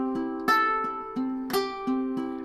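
Ukulele fingerpicked in a lilting 6/8 pattern, bright plucked notes ringing over each other in a steady rocking rhythm, close and clear with no talking.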